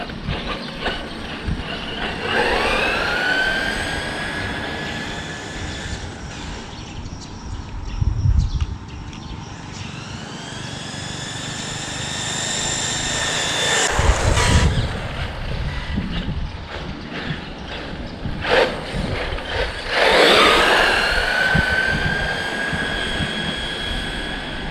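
An HSP 94107 RC car with a 3000kV brushless motor on a 2S LiPo battery runs with a loud, high electric whine that rises and falls in pitch over several throttle bursts, with no talking.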